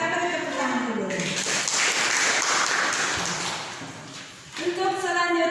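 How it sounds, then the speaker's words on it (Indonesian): An audience in a church teaching session claps together for several seconds, a broad wash of applause rising between stretches of someone talking before and after. "Kita beri tepuk tangan dulu."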